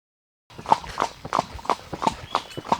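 Horse hooves strike in a steady, fairly close clip-clop rhythm during riding practice with a horse trainer in Wayanad, with no voices over the repeated footfalls.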